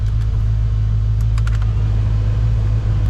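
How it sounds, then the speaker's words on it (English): 1990 Ford Mustang engine idling steadily during a coolant change, a loud, continuous low rumble with a few faint clicks on top. "gonna go ahead and start the engine and get that water pump going"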